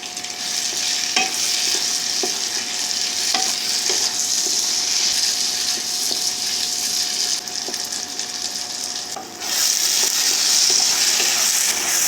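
Tomatoes fry in a pan with ginger and garlic for chilli broccoli, making a continuous close hiss and sizzle broken by occasional spatula taps, and the sizzle swells louder near the end.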